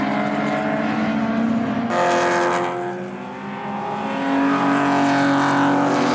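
A blue BMW race car's engine roars loud and close on the straight at about 120 mph, the pitch dipping briefly then climbing again.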